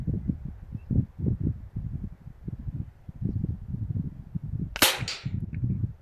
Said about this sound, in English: I'm just going to put 10 shots into that leftmost target so we can compare between the two guns.